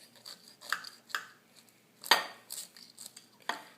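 A knife cutting into a grilled bacon-wrapped burger stuffed with smoked turkey, cheese and barbecue sauce, giving several sharp metallic scrapes and clinks against a plate, close and intermittent, with no talking.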